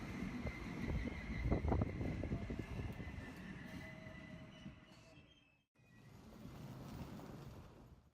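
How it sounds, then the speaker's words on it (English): An XPT passenger train rolls into a station with rumbling wheels and thin squealing tones, loudest early and then fading; after a brief cut, a quieter rumble continues. "The train rolled into the station around 10 minutes past its scheduled arrival time"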